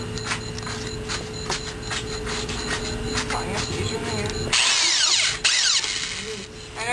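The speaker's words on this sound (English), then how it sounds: "Now we are mixing our concrete." A power drill with a mixing paddle churning concrete for a small wooden formwork project, a steady loud whirring drone that shifts to a harsher, higher grinding whine partway through.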